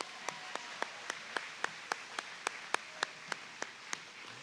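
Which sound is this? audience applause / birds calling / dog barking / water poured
audience applause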